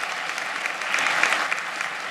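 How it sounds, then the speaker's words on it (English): Applause from the audience at a high school graduation ceremony, a brief, close, dense burst of many hands clapping. "Let's give a round of applause to Mr. Richard."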